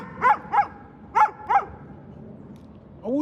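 A dog barks four times at close range, two sharp barks, a pause, then two more, over a low background hum, with a brief whine rising at the very end.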